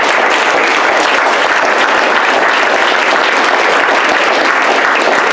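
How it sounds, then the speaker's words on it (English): Audience applause at a Toastmasters club meeting in Winter Park fills the room, a thick, steady, loud wash of clapping from many hands throughout. "can everybody join me in a round of applause for 38-year-long Toastmaster Ty Patton"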